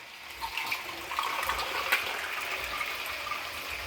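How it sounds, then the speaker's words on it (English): A little water is poured into a pot of cooking biryani, giving a soft, steady gush and trickle at low volume with no speech. "I will be adding a little bit of water"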